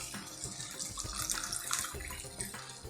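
Water poured into soaked rice for corn methi pulao, a steady close splashing trickle running throughout, fairly quiet with no talk.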